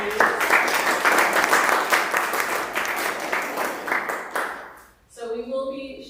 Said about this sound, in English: join me in giving a big round of applause for these ladies